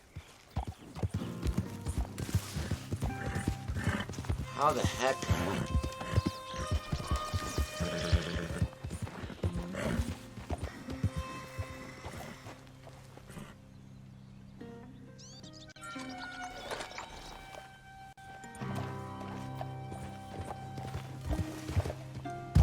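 A horse in Red Dead Redemption 2 clip-clops steadily on hooves and neighs now and then, with birds chirping around it, while someone briefly talks over the game sounds.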